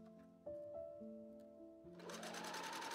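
Fabric pieces for a vintage ghost stage costume pass through a sewing machine, which starts after a few soft tonal sounds and runs into a fast, close, rhythmic stitching whir.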